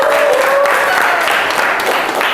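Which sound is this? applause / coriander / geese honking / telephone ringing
applause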